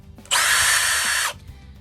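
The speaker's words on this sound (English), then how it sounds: "I have an extender piece that I have for my drill" A power drill fitted with an extender bit, working on a flathead screw, whirs at high speed in one steady burst of about a second, close and loud, with light handling noise before and after.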